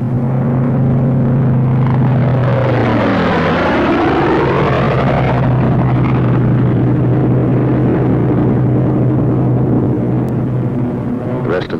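World War II propeller fighter planes peel off one after another to attack, their engines roaring loudly in a continuous drone that swells and dips in pitch as an aircraft passes close by.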